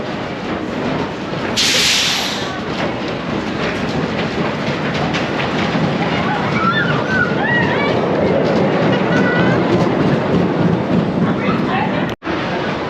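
Rumbling, rattling ride on the Grand National, a wooden roller coaster at Blackpool Pleasure Beach, with steady loud track noise, clickety-clack of the cars, a sharp hiss near the start, shrieks and voices mixed in, and an abrupt cut near the end.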